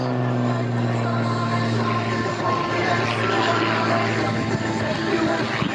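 An MXS aerobatic airplane flown by Rob Holland at the Columbus airshow makes a knife edge pass, its engine holding a strong, steady droning hum. A faint announcer voice runs underneath.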